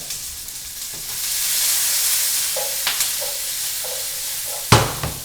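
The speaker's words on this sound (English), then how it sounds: "I know we're in good shape because the onions are already browning" Onions frying and browning in a pan, a steady soft sizzle and hiss running throughout, with a few brief clicks and a louder clatter near the end as the food is stirred.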